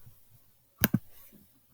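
Two quick computer keyboard key clicks, close and crisp, land in a row and stand alone against a quiet room.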